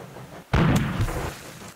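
Cannon fire from ironclad warships in the naval video game Ironclads: a single deep boom strikes sharply, then a rumbling roar fades slowly under a steady low background.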